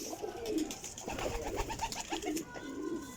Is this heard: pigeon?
yes